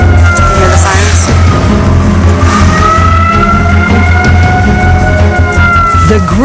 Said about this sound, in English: the tsunami sirens went off